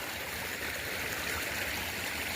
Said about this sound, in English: we just got to cross the brook